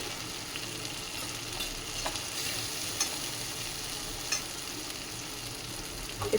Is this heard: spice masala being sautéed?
yes